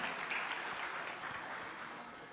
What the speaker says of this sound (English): Let's give a big round of applause to everyone here visiting the temple for the very first time.